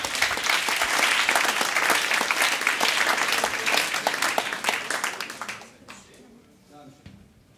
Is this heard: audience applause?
yes